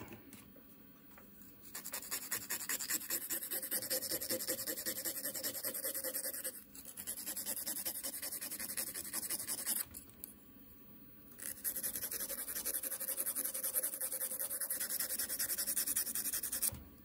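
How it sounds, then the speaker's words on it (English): Sega Mega Drive game cartridge contacts rubbed clean, a loud continuous scratchy scrubbing close up in three long strokes separated by brief pauses. "Alright, let's clean the contacts. Let's give it a rub down."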